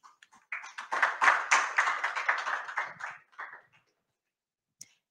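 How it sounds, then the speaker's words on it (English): A small audience claps for panelists closing a climate-disclosure summit session, a short, thin burst of hand claps that swells and fades within about three seconds, fairly close, followed by near silence and one last stray clap. "please join me in thanking the panelists for their excellent contribution with a big round of applause"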